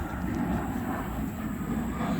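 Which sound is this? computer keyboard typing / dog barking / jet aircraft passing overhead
jet aircraft passing overhead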